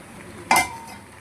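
A pot lid lifted off boiled long beans with a single sharp metallic clink and a short ringing scrape, then quiet.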